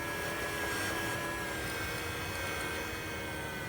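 Electric water pump on a BMW 535i running during a coolant bleed, a steady whirring hum with no breaks, heard alone at low level.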